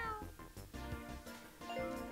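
In the Mario Kart 8 video game, a cartoonish cat meow plays among busy game music and sound effects, a short bright call standing out from the mix.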